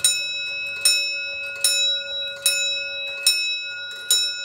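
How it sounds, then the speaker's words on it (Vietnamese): An antique European mechanical clock strikes the hour with loud, ringing metallic chimes, six evenly spaced strikes about every 0.8 seconds, each sustaining a bright, bell-like tone that decays before the next blow, heard up close with no talk. "Ba mươi phút điểm chuông một lần các bác nhé."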